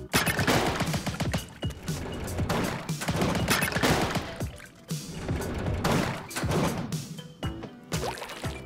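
Ink shooting in Splatoon 3 produces repeated splattering, splashing bursts in rhythmic volleys, several seconds long with short gaps between them. Loud and busy, set over in-game music.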